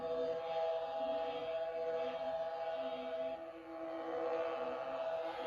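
Idle hum of a Galaxy's Edge Savi's Workshop lightsaber, a steady, sustained musical drone with faint wavering, heard close and alone without speech.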